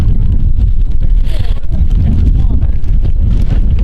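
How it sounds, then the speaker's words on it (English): Strong, cold wind buffets the microphone in a steady, loud low rumble throughout at a rugby match, with faint outdoor sounds underneath. "It's a little bit wild and windy here today and cold."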